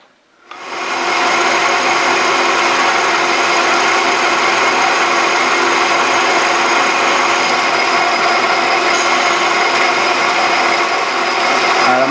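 A metal lathe taking its final 50-thousandths cut on a shop hammer workpiece, a steady loud machining whine with stable tonal hum sustained throughout after a quick spin-up.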